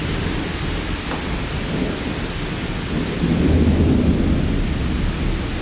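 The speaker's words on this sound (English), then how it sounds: "tracking a strong thunderstorm over Lake Monticello, or near Palmyra" A strong thunderstorm over Lake Monticello near Palmyra brings steady heavy rain with a low rumble of thunder swelling in the middle, loud and continuous with no voices.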